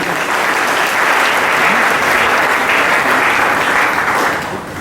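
A church congregation breaks into sustained loud applause after a scripture reading, a dense unbroken clapping that fills the space throughout and fades slightly at the very end.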